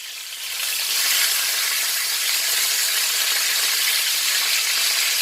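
Rib-eye steaks with coffee and black pepper sizzling loudly in a hot pan after flipping, a steady, close, hissing fry that swells in the first second and then holds.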